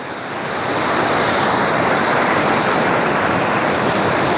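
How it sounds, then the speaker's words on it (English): A fast, swollen creek rushes beneath a bridge in historic Gyeongju, South Korea, at dawn, giving a loud, steady, broadband roar that builds over the first second and then holds constant, with some wind on the microphone. "So you can probably hear the roar of the water."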